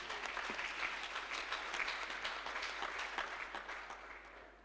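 A church congregation applauds a woman who has come to testify, a dense, steady wash of hand clapping that holds for several seconds and eases off slightly at the end.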